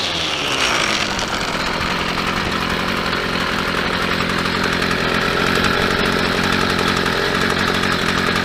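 A Stihl string trimmer engine runs steadily and loud at close range, a continuous buzzing two-stroke drone with no talk over it; the machine has seen seven or eight years of commercial use.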